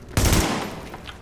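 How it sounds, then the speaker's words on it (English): A short, loud burst of gunfire in the video game Tom Clancy's The Division rings out and decays, followed by fainter distant pops. "You didn't hear all the gunshots?"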